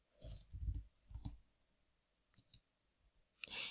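Computer mouse clicks while navigating event-scheduling software, a few soft, separate clicks with gaps between them and a louder burst at the end, with no talking.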